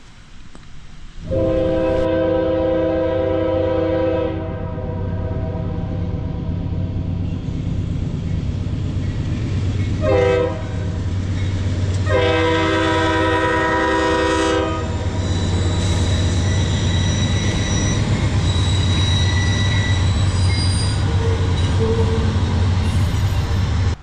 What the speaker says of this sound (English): We will continue our story in just a minute after the train leaves.